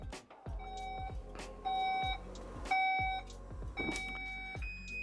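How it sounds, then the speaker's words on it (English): A Skoda Enyaq electric car's tailgate opening warning sounds in repeated electronic beeps in short bursts, fairly close, about four times over a steady low mechanical hum. "Got the warning beep just to say, look, the boot lid's opening"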